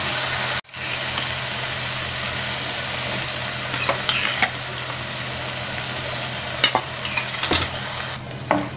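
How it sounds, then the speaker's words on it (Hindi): Chickpeas being mixed into a spiced masala in a pan, a loud continuous frying hiss with repeated scraping and knocks from the stirring spoon, briefly cut off near the start, with no speech. "मैंने छोले डाल दिए हैं। अब इस तरह करके हमें मिला लेना है।"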